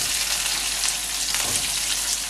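Peeled garlic and small onions frying in hot oil for a Tamil garlic gravy, a dense, bright, continuous sizzle that stays loud and even throughout, close up with no talking.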